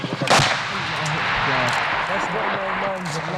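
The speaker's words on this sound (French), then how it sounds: "Un char les prend pour cible." A sharp blast from a tank's gun strikes near rebel fighters in Syria, one loud crack followed by a rumbling tail, with someone speaking over the scene.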